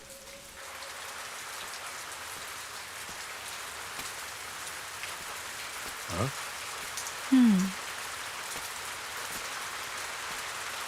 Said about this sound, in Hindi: बेटा बारिश हो रही है